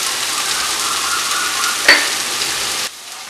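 Turmeric and Kashmiri chili powder stirred into frying onion-ginger-garlic paste for paneer butter masala, an even, close sizzle with one sharp utensil knock before the sound cuts off abruptly near the end.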